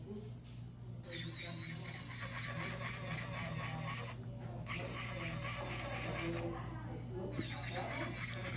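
An electric nail drill whirs continuously at close range while it smooths the surface of an acrylic nail during a refill, with short pauses as it lifts off and a person talking underneath.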